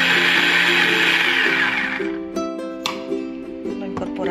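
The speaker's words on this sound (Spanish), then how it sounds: "Y lo batimos unos segundos." A kitchen blender whirs loudly and steadily while blending lentil soup ingredients, then its motor pitch drops and wavers as it slows over the last seconds.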